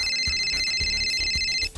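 An electronic telephone ringtone chirps in a steady, rapid repeating pattern of bright tones, loud and close, then cuts off abruptly near the end.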